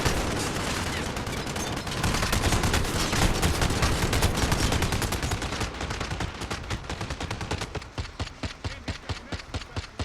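Sustained machine gun fire in a Modern Warfare game, a dense, loud roar of rapid shots that thins into distinct regular bursts toward the end, with no voices.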